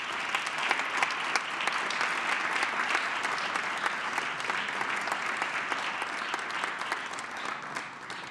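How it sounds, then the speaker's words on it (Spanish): Steady applause from a large crowd at Mexico's national sports awards ceremony, dense continuous clapping at an even level, slightly distant, fading a little near the end. "Un aplauso, por favor."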